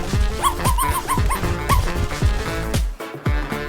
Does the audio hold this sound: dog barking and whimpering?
yes